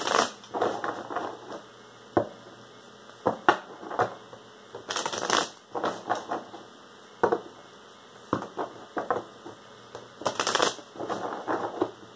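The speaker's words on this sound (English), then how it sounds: "the cards are actually all shuffled here" Playing cards riffle and snap in repeated bursts of shuffling, crisp and close, with brief pauses between rounds.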